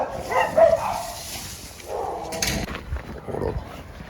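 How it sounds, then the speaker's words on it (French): A dog barks near a house in the French countryside, a few sharp barks and yips at moderate distance, mixed with outdoor background noise. "Oh, il y a un chien."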